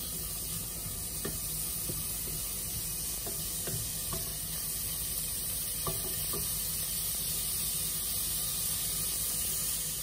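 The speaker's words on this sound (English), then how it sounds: "Then we put a half liter of water." Half a liter of water poured into a moderately hot pan of chicken pieces being cooked for cream sauce, a continuous hiss and splash with faint clinks throughout.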